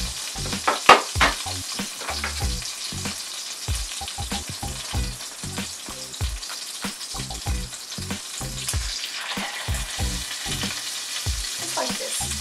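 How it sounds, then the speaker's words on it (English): Pork chops frying in a hot pan give a steady, close sizzle and crackle, punctuated by repeated clanks and scrapes of utensils against the pan. "go ahead and remove them and cook your remaining pork chops"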